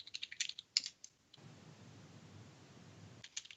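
Quick bursts of computer keyboard typing, crisp close clicks in an irregular run, then a pause of faint room hiss before a few more keystrokes.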